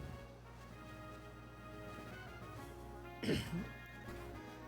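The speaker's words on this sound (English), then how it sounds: "Got a cough." A single short cough bursts out near the mic, loud over a steady musical background and a low hum.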